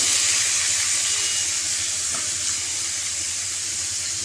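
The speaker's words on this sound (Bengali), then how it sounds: "কড়ার তেলের মধ্যে এই সবজিগুলো দিয়ে দেব" Potatoes, pointed gourd and other vegetables dropped into hot oil in a wok for a spicy black-pepper fry, giving a loud, continuous close-up sizzle and hiss that eases slightly as it goes on.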